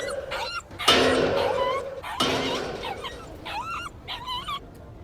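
A dog in The Inquisitor video game whimpers and yips in short high whines between bursts of game sound, with a voice speaking briefly over part of it.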